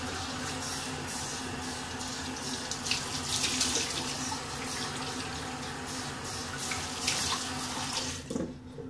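A cold-water tap runs steadily into a sink during a bay rum wet shave, a continuous close splashing wash that carries on alone for several seconds before easing near the end.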